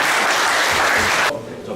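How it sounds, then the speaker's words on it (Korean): An audience applauds in a hall to welcome a guest speaker, a brief, loud burst of clapping that cuts off abruptly partway through. "큰 박수 부탁드리겠습니다"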